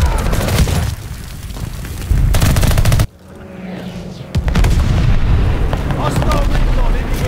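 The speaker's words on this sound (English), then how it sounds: "Mortar fire coming." Mortar fire in the Call of Duty: Vanguard video game: heavy booming blasts and rumbling gunfire, loud and continuous, with a short lull partway through before the barrage resumes under game voices.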